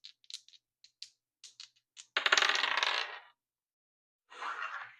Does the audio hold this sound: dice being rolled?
yes